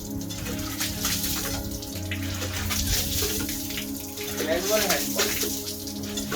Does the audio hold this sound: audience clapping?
no